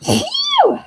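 A single close, loud sneeze breaks out during a casual snack-sale livestream, followed straight away by a breathy spoken exclamation from the same person.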